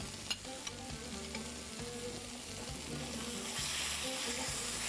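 Tomato sauce made with San Marzano tomatoes sizzles and fries steadily in a hot pan, a continuous crackling hiss with a few sharp pops early on, growing slightly louder toward the end, no talking.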